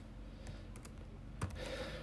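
Keys tapped on a computer keyboard while entering a Linux terminal install command, a soft scattered run of clicks over a low background hum, close and quiet.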